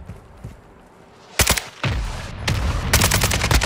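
Gunfire rattles in the video game Warzone 2.0, loud rapid bursts of automatic fire cracking in clusters after a quieter start, dense and sustained toward the end.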